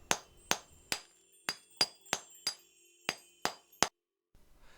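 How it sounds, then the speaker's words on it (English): Hammer and chisel striking webbing in the video game Pillars of Eternity: ten sharp, ringing metallic blows at a steady, slightly uneven pace, close and clear, then stopping. "If you break through it, it's best to use the hammer and chisel."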